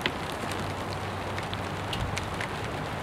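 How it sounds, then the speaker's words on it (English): Steady rain falls outdoors as a continuous hiss with scattered drop patters, close and even throughout, no voices. "It's raining."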